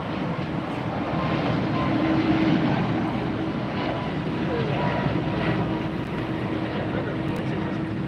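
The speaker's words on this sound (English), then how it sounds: "There goes Air Canada." An Air Canada jet takes off at LAX, making a broad, sustained engine roar that swells slightly midway and stays steady and fairly loud throughout.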